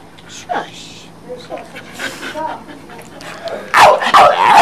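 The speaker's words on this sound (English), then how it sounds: "Vicious when you bark." A dog barks, yips, pants and whimpers in short, close bursts, mixed with a person's repeated shouted cries and calls.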